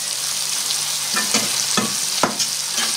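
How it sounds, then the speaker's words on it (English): Sliced mushrooms fry in a pan, a steady close sizzle broken by a few scraping stirs from a utensil. "I'll slice my mushrooms and I'm going to put them in the pan."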